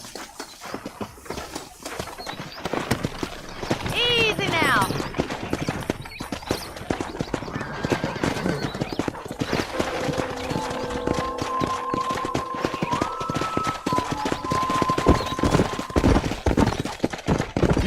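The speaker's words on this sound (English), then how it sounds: "Let's see if we can't wrangle some horses." Horse hooves clip-clop steadily in the Western video game Red Dead Redemption while horses are wrangled with rope, with a whinny, game ambience and a brief spoken line over the hoofbeats.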